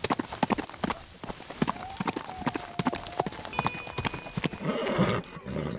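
Hooves clip-clop in a steady, busy rhythm with a horse whinnying partway through, in the game Teardown, with a second horse present among several; a voice talks now and then over the sounds.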